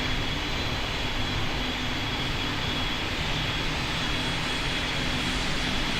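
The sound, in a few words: airliner taking off in the video game Pilot Training Flight Simulator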